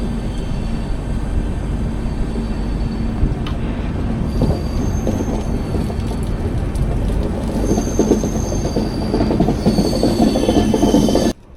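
The Tirupati–SMVT Bengaluru Intercity Express, an LHB-coach train, runs along with a loud, constant roar, wheel noise and occasional squeals, heard from on board and cutting off abruptly at the end.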